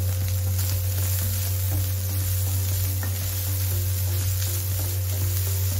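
Boiled chicken frying with sautéed onions in a pan, a steady close sizzle over a constant low electrical hum, with occasional small stirring clicks and no talk.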